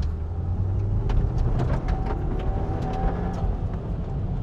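An Audi A3 Quattro accelerates hard in second gear, its engine droning steadily at close range from inside the car, with faint clicks and rattles above the road rumble.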